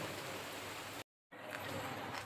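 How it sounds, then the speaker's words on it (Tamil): Heavy rain pours down in Odisha, a dense, loud, steady hiss broken by a split-second gap before resuming. "செம்மையாக மழை பெய்து பாருங்களேன்"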